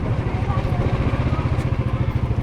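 A Royal Enfield Himalayan motorcycle is ridden through a market area, its engine giving a steady, pulsing low thump close up throughout with a faint clatter on top.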